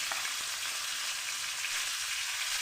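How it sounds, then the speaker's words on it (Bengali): Magur catfish pieces frying in hot oil in a pan give a steady, loud, continuous sizzle with faint crackles and pops, no voices over it. "এবার আমি ছেড়ে দিচ্ছি মাগুর মাছ খুব সাবধানে ভাজতে হয়"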